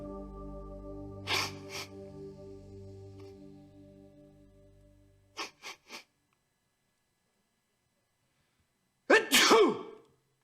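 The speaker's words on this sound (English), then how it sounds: "Achoo! Or a sneeze." A person sneezes after taking snuff: a low hum fades out, then a few sharp sniffs and snorts are followed by one loud, explosive sneeze close to the microphone.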